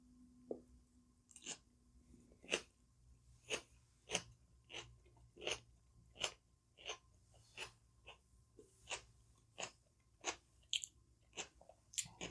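Crisp, close crunching bites and chews of a cucumber roll-up filled with fresh bell peppers, green onions and jalapeno, about a dozen sharp bursts in an even rhythm, with quiet breathing between them and no talk.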